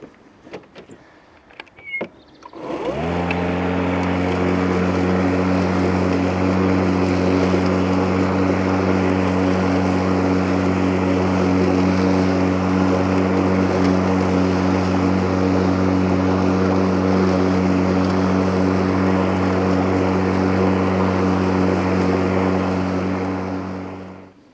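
Hyundai HYM80LI460P petrol lawn mower with the rear flap held open for rear discharge, starting after a few seconds of quiet and then running loud and steady with a strong constant engine drone throughout, no talking.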